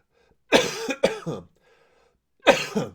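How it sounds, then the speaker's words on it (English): Three harsh coughs close to the mic, two in quick succession and then one more after a short pause, in an otherwise quiet room. "I might cough a lot tonight, guys."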